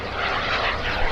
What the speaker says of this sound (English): beautiful plane, beautiful plane.